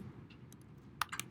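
A few quick, faint clicks of computer keyboard keys, sparse taps clustered toward the end of a short, quiet moment.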